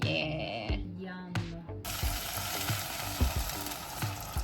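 Garlic, butter and onion frying in a pan for a vegan clam chowder, with a bright steady sizzle that surges in partway through, accompanied by occasional stirring clanks and some background voices.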